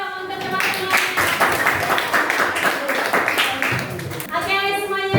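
A room of eighth-grade students claps together in class, a dense patter of many hands alongside children's voices and an adult speaking.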